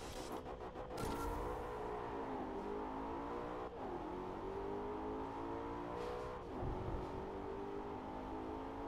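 A race car engine roars in the DriveClub VR racing game. The sustained whine rises and falls through gear shifts at roughly one, four and six and a half seconds, loud and continuous with no talking.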